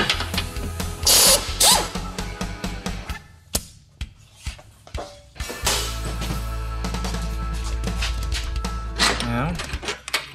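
Wrenching on the 15 mm control arm bolts of a Chevrolet HHR, with ratchet clicks, a power tool whirring in bursts and metallic clanks near the mic. Someone talks intermittently between the tool sounds.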